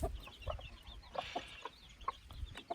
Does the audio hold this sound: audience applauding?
no